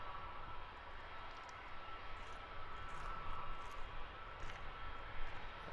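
Wizz Air jet with 250th special livery at Luton Airport, a steady distant engine roar and broadband rumble holding evenly throughout with slight swells, no talk.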